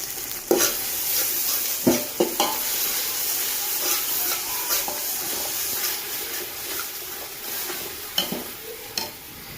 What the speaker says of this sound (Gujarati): ગ્રેવી પાકતી હોય ત્યારે આવી રીતે તવીથાથી સતત હલાવતું રહેવાનું